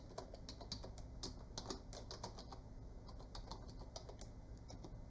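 Rapid typing on a computer keyboard while entering customer details, a quick, uneven run of close, crisp key clicks with no talk.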